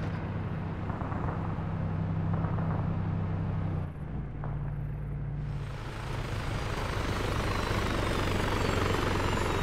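Drones in the military video game Arma 3 give a loud, steady droning hum like a helicopter that holds for the whole stretch, with its pitch shifting slightly partway through.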